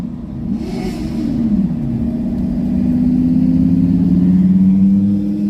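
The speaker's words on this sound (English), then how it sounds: "Here we got another car." A car in a caravan rolls past at Huntington Beach, its mid-pitched engine revving and whirring steadily and fairly loud throughout, with no talk over it.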